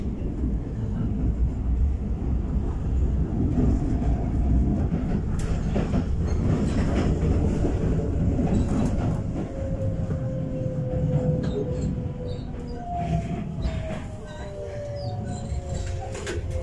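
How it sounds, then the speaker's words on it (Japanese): A Keikyu electric train runs loudly with a steady rumble and rhythmic rail clatter, and rising motor whines come in toward the end as it slows. "電車を降ります。"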